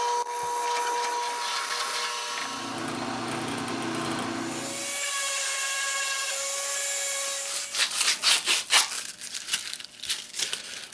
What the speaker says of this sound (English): I'm going to drill some holes in the back here to let some more air through